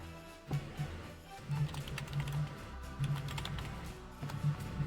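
Computer keyboard typing while playing a game on Steam: quick, light clicking keystrokes in irregular clusters, close and fairly quiet, with no talk over it.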